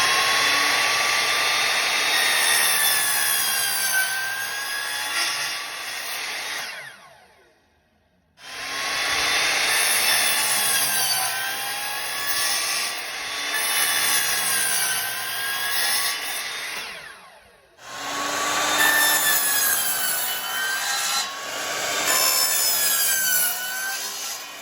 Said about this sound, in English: I'm going to go ahead and do some of the main cuts on the board here. And using my nice chop saw here.